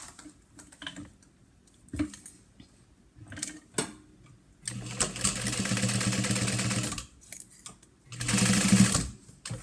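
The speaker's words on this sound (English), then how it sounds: "I will baste stitch that on now" Sewing machine basting stitches on a cash card mini wallet, two bursts of rapid whirring stitching after some quiet handling clicks, close and clear.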